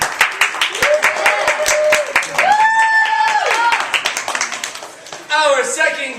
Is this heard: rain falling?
no